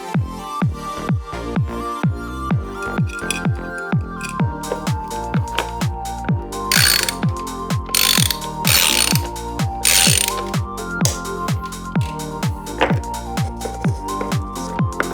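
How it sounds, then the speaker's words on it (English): A ratchet tool tightens the chainring on a mountain bike crank with a long, rhythmic run of loud, close mechanical clicks, several quick bursts of ratcheting that pause briefly between strokes. "Tightening the chainring."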